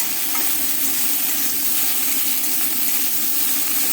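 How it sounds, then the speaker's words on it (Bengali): Spices sizzling in hot oil with salt, turmeric and green chili, a continuous loud frying hiss with faint stirring underneath and no talk. "দিয়ে সব একসঙ্গে ভেজে নিচ্ছি।"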